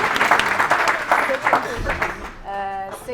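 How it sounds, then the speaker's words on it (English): A crowd at a book launch event applauds in a dense wash of clapping, fairly loud and steady, with a voice emerging near the end. "Can we give my mom a round of applause?"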